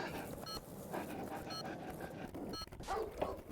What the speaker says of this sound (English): So like right now I'm walking a dog.